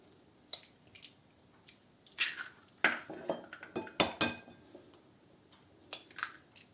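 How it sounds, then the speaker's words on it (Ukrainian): Sharp taps and cracks of three eggshells against a bowl, then clinks and wet drips as the eggs drop in, several quiet knocks spread out with no talking. "У миску вбиваємо троє яєць."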